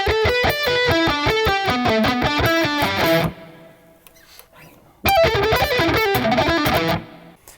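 Distorted electric guitar plays a fast descending string-skipping pentatonic arpeggio in two loud runs, with a short gap of near silence between them.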